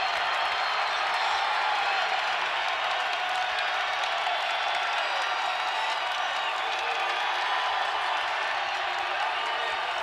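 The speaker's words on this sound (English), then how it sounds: "And this crowd is into it." Basketball arena crowd at a college game between Utah State and Wyoming, a dense steady roar of cheering and clapping filling the whole stretch, loud and continuous with no pause.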